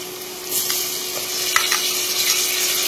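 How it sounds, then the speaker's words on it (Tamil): Green chili and tomato, with coriander, sauté in a pan for a Chettinad chicken biryani: a steady, close sizzle with brief scraping stirs over a constant hiss. "இன்னும் நல்லா வதங்கட்டும்."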